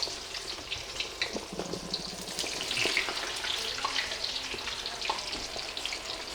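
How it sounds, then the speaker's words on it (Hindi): Marinated meat sizzles and fries in a pan with a continuous close hiss, broken by light stirring clinks and occasional water sounds, and no speech. "ये फ्राई हो रहे हैं"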